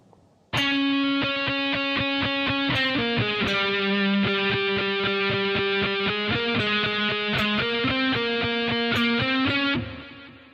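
Distorted electric guitar plays a lick slowly, a steady run of sustained, saturated notes lasting about nine seconds and heard alone before it cuts off.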